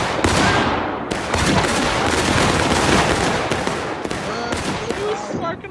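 Dense rattle of Civil War era infantry rifle fire in War of Rights, many musket shots overlapping into a loud continuous volley with scattered nearer cracks, voices shouting faintly underneath.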